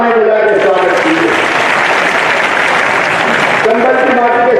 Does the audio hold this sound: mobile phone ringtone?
no